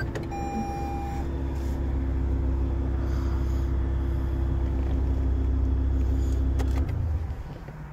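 A 2016 Toyota Highlander idles and drives with a low, steady engine hum that swells slightly, accompanied by a brief tone and light rattles before the sound drops off near the end.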